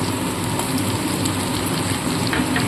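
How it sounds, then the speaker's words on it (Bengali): Onion, garlic and spice paste sizzles in hot oil, a steady dense crackle with bright spitting, close and continuous with no voices. "পেঁয়াজ বাটা রসুন বাটা দিয়ে আমি কিছুক্ষণ মশলাটা ভেজে নেব"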